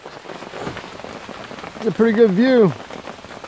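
Steady rain patters down at a lakeside campsite at Lake Lenape in Mays Landing, New Jersey, a continuous soft hiss throughout while someone speaks briefly over it.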